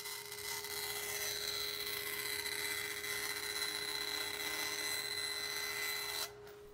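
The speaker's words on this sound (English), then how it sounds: "it's back over to the bandsaw where we cut out our splines" Bandsaw cutting oversized poplar splines, a steady high whine with a constant tone running loud and even for about six seconds before cutting off abruptly near the end, no talking.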